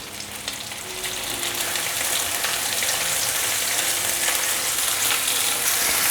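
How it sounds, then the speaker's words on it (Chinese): King oyster mushrooms and gluten sausage stir-fried in a wok give a loud, steady, broadband sizzle throughout, with scraping stir strokes mixed in and no voices. "把杏鲍菇和面肠炒成微焦"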